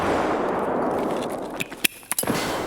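Grenade blast and gunfire in Escape from Tarkov, a dense roaring wash of battle noise followed by a few sharp cracking reports near the end.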